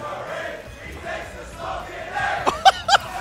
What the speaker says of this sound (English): The crowd jinxing Curry